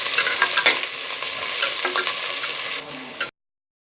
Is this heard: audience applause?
no